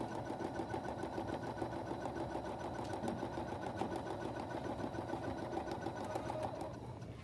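An embroidery sewing machine stitches out its first thread color in one continuous, dense, rhythmic run of rapid needle strokes, close and steady throughout, with no talking.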